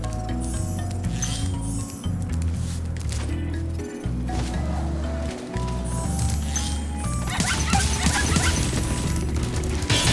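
Chihuahua enemies in Spyro Reignited Trilogy, short yappy barks and yips repeated over busy game sounds and music, fairly close and steady throughout.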